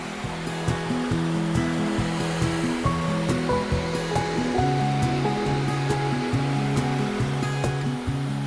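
A pressure washer blasts grime off greenhouse wet wall pads, a steady loud hiss of spray holding throughout with rhythmic low pulsing beneath, no voices.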